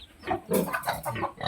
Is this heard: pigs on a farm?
yes